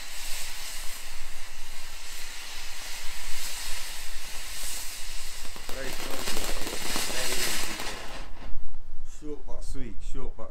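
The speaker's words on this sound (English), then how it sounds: "Now back in with a fountain from the Conspirators box" A Royal Party firework fountain from the Conspirators box sprays with a loud, continuous hiss for several seconds, and crackles and pops grow toward the end.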